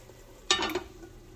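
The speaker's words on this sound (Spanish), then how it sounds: "Así voy a freír todos. Así va quedando la carne." Pork meat frying in a pan for carne de puerco a los dos chiles secos gives a short burst of sizzle and stirring, close and moderately loud, lasting under a second before fading back to a low background.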